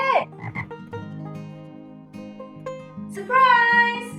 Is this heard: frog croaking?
yes